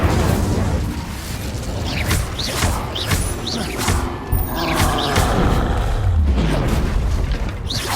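Confringo and Incendio spell blasts in Hogwarts Legacy, dense loud bursts of fiery whooshes and booms stacked over continuous rumbling battle noise, with repeated sharp impacts throughout.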